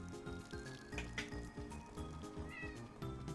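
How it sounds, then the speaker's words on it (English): A house cat meows again and again in a rapid, insistent series of calls, soft and close in a quiet room. "Very vocal kitty."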